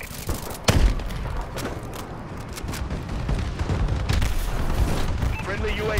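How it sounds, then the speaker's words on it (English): Explosions from an enemy bombing run in the shooter game Call of Duty: Advanced Warfare, a heavy opening boom followed by a rolling barrage of thuds and gunfire, loud and continuous with faint speech underneath. "Enemy bombing run overhead."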